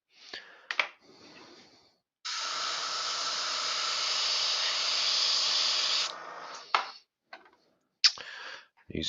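An airbrush sprays paint while weathering a model, giving a steady, close hiss for about four seconds, with short soft puffs of air before and after in an otherwise quiet room.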